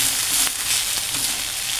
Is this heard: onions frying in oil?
yes